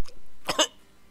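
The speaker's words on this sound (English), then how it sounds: "I just coughed whilst drinking water and it went all my nose" One short, sharp cough bursts out while drinking water, a quick choking double spasm followed by quiet.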